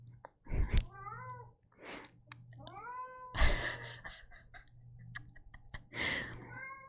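A pet cat meows repeatedly up close, several drawn-out, rising and falling calls spaced a second or so apart, over a low steady hum.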